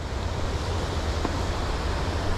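Ocean waves surge against the rocky shore at Thunder Hole in Acadia, a steady, broad wash of surf noise with no distinct breaks, close and fairly loud.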